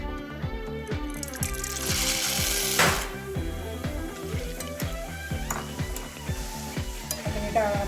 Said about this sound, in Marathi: त्याच्यामध्ये आपल्याला डाळ टाकून घ्यायचे